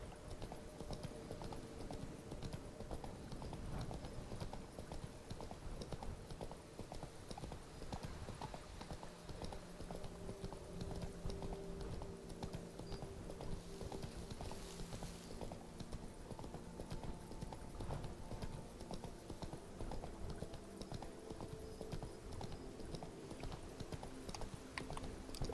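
Horse hooves clip-clop steadily and continuously in The Witcher 3 on PC, with a constant rhythmic trotting over a dense ambient game soundscape and no pauses.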